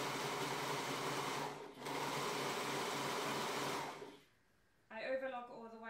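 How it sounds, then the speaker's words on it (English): A Brother 1034D overlocker serges jersey fabric with a fast, steady mechanical whirr, close and fairly loud. It runs in two bursts with a short break, then stops, and a voice speaks briefly afterward. "I overlock all the way around"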